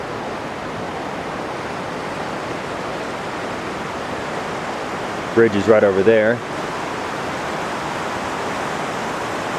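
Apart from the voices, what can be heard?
South Fork of the San Joaquin River flowing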